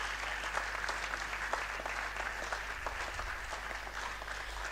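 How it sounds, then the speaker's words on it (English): A large audience at a university convocation lecture gives steady, dense applause that carries on unbroken throughout, heard from within the hall. "Please give her another round of applause"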